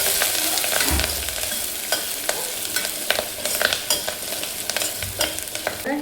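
Curry leaves hit hot oil in a home kitchen pan for an Indian dinner, giving a broad steady sizzle with scattered crackles and pops and occasional stirring clatter, close and loud, no talking.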